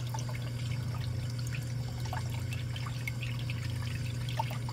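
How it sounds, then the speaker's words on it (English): Steady water pouring from a return line into a 150-gallon reef aquarium, spread across by a plate, a constant close trickling rush with faint drips over a low pump hum and no talk. "Put that plate in because it helps disperse the water all the way across"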